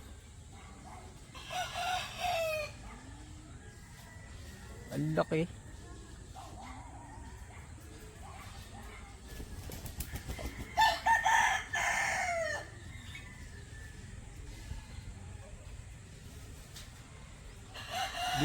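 Off-colour chickens and roosters on a Philippine farm crow in long drawn calls and cluck at intervals, close and moderately loud, with someone talking between them.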